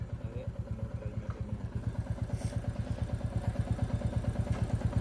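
A Royal Enfield Bullet motorcycle idles in neutral with a rapid, even thump-thump of its single-cylinder engine, loud and close.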